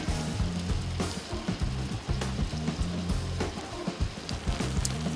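Chicken fries in oil in a skillet, giving a dense, steady sizzle and crackle with a few sharper pops, close and fairly loud throughout.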